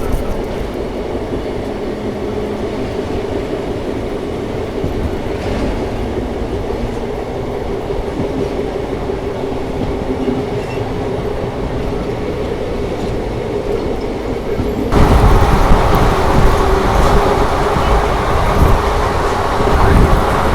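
The Chennai Egmore–Mumbai CSMT superfast express rumbles steadily through Mamandur railway station without stopping, wheels clattering, growing louder and harsher toward the end as it runs through close by.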